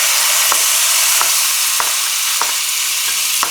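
Spice paste sautéing in hot oil for beef soto, a loud dense hiss of frying with a few sharp scrapes or ticks spaced about every second, close and continuous.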